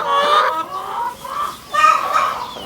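Chickens and little chicks cluck repeatedly in a coop while pecking at scattered corn, a steady run of close, moderately loud clucks and chatter with short pauses between bursts.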